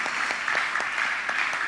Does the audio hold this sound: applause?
yes